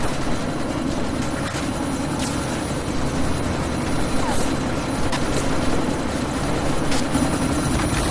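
A helicopter in the Deus Ex: Mankind Divided video game roars loudly and steadily, its dense rotor and engine noise filling the whole clip without letup.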